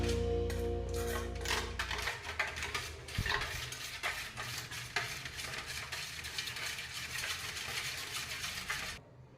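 Spice masala for mutton tikka being mixed in a bowl, rapid repeated clinking and scraping of a utensil against the bowl, close and steady for several seconds.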